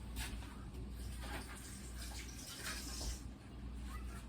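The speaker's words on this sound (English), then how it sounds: "All right, wash my hands." Tap water runs steadily into a kitchen sink during handwashing, a continuous soft splashing stream, close but fairly quiet, with no talk.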